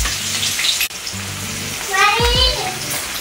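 Chopped onion frying in a pan for a prawn and mushroom curry, a steady close hiss and sizzle with crackling pops, while someone talks over it.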